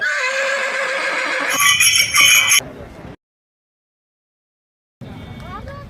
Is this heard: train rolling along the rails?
no